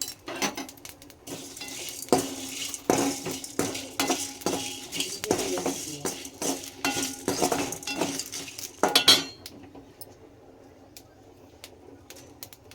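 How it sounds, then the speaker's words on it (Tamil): A little oil and curry leaves dry-roasting in a pan: irregular close metallic clinks and scrapes of a spoon stirring for about nine seconds, then near quiet with a few faint taps, while a pigeon coos softly in the background. "அதில் லைட்டாக எண்ணெய் ஊற்றிக்கலாம் ட்ரையாக தான் வறுக்கணும்"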